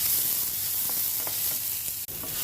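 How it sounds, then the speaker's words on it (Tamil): Ingredients sautéing in a hot pan give a continuous, even sizzle, with a few faint stirring scrapes and clicks breaking through now and then. "போட்டுட்டு நல்லா வதக்கி விடுங்க."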